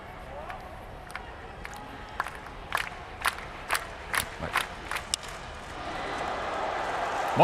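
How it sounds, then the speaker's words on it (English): A baseball crowd at a World Baseball Classic game between Australia and the Czech Republic applauds a two-out base hit, scattered claps and cheers rising into a swelling roar of applause from a distant stadium audience. "He gets a round of applause from you."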